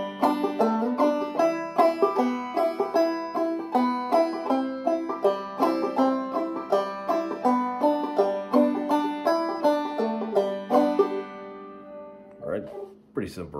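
Clawhammer banjo picking a section of the song Mexican Cowboy, a bright, bouncy stream of plucked notes in a steady rhythm, close and clear, stopping near the end where a brief voice follows.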